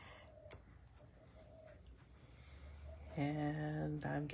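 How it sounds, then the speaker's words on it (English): Pigeons or doves cooing outdoors in sunshine: low, soft coos over a quiet background, with a fuller, louder cooing phrase in the last second or so. "The birds have started cooing."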